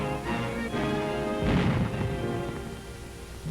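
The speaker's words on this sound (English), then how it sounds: "By fierce artillery fire, Dutch batteries are still trying to destroy the bridges." Artillery fire in archival wartime footage of Dutch batteries shelling bridges during a paratrooper assault, with a heavy booming burst near the middle rising over a constant rumbling, music-laden soundtrack.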